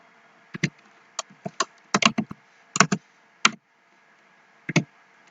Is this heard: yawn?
no